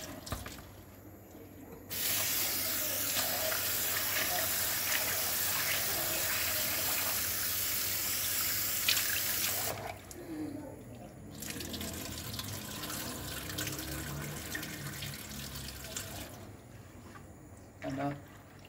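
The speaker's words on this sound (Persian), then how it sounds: "چندین بار آبش رو خالی کردم تا پوستش جدا بشه" Water drained and splashing out of a cooking pot of soaked split peas, a loud continuous rushing pour in two long stretches with a short pause between.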